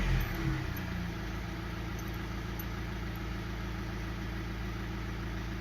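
An Audi/VW car engine idles steadily after a warm start, a continuous low rumble with even mechanical hum at close range and no voices over it.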